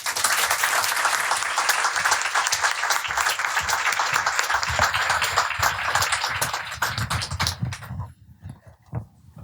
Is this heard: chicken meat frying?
no